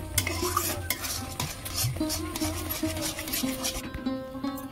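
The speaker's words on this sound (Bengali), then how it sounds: "ভালো করে নেড়ে নেড়ে শুকনো করে নেব, একটা ডোর পরিণত করে নেব।" A spoon scrapes and stirs a powdered milk mixture in a pan as it cooks dry, with repeated close clinks and scrapes over a soft, faint sizzle.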